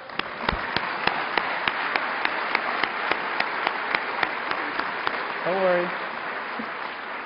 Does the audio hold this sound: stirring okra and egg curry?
no